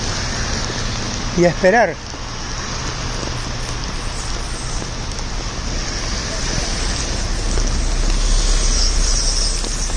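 Steady rain falls outdoors, a dense, even hiss of drops that holds for the whole stretch and swells slightly toward the end; someone speaks briefly near the start over it.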